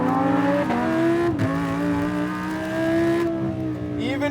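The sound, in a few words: tuned Lamborghini Huracán 5.2 liter V10 revving to 9,000 RPM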